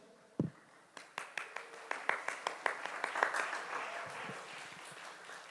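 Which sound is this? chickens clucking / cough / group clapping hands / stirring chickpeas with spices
group clapping hands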